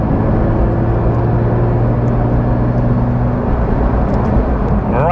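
Porsche 992.1 911 GT3 at the foot of a mountain road, its engine holding a steady droning tone under continuous rumble, with a short rising note near the end.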